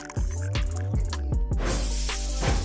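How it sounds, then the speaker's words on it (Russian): Boiling water pours into a large mug with tea leaves, a series of splashing glugs at first, then a continuous hissing stream of liquid filling the cup. "И, конечно, кипяток чистейшей воды."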